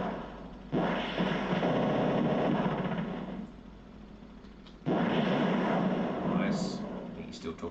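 Gunfire in the Mega Drive game Desert Strike comes as two long, loud, roaring bursts of rapid fire and explosions, separated by a quieter lull, with a faint high electronic blip near the end.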